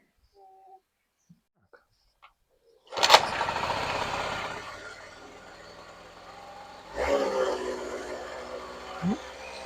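A Honda Dio scooter starts up after carburetor repair. After a few faint clicks, the small engine catches abruptly and buzzes at a loud, rough idle, then revs up again briefly near the end.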